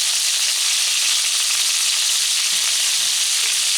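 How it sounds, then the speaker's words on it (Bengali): Pointed gourd frying in hot oil with salt and turmeric gives a loud, even, close hiss of sizzling that holds steady for the whole stretch, with no stirring or voices. "এবার পটলগুলোকে দিয়েও আমি পটলটাকেও সেম পদ্ধতিতে সামান্য লবণ আর হলুদ দিয়ে ভেজে নেব"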